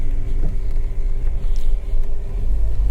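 A Ford EcoSport Titanium with a three-cylinder engine climbs a hill road at Morro do Capuava, its steady low engine rumble and road noise loud and close inside the cabin, no voices.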